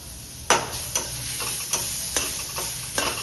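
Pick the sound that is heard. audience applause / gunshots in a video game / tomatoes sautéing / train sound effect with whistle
tomatoes sautéing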